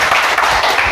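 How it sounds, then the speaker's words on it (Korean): An audience at a large indoor civic rally claps in a dense, loud burst of applause lasting under a second, close and without talk. "박수 좀 세게 쳐봐요."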